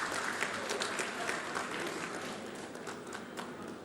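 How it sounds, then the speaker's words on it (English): Audience applause at a ceremony at a sports centre of excellence in India, dense clapping that stays loud and steady throughout, with a murmur of crowd voices. "Kindly, a big round of applause,"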